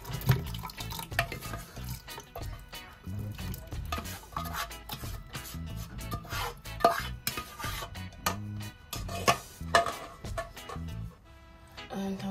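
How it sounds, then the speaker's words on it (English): Pumpkin juice poured from a container into a blender in a home kitchen, a fairly quiet wet trickle with splashes, drips and small clinks of the vessel, uneven and close. "I'm going to pour the remainder of the pumpkin and Irish into my blender."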